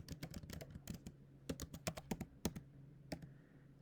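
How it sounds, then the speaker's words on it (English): Quick, uneven keystrokes on a computer keyboard tap out in bursts with short pauses, close and fairly quiet in an otherwise still room. "Just hit enter after you're done typing."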